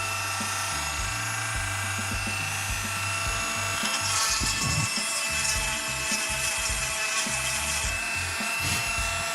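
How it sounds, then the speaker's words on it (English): Handheld rotary Dremel power tool grinding into a 1/60 scale monument model, a steady buzzing drone with scraping, rubbing contact against the material, fairly loud and close throughout with no talk. "one thing you gotta be careful when working with power Dremels"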